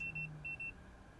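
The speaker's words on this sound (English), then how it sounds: "I don't know why it's beeping at me" An astrophotography flat panel device gives faint, quick electronic beeps, two short high tones about half a second apart against a low background hum.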